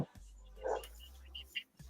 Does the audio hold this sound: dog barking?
yes